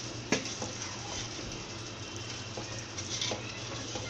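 Steady sizzling and bubbling from a pot of chana dal with occasional scraping clinks of a spoon stirring, continuous and close.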